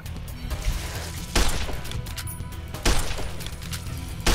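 A varmint rifle fires at a giant scorpion in Fallout New Vegas, a video game: two sharp, loud shots spaced about a second and a half apart, each cracking over a low rumbling game ambience.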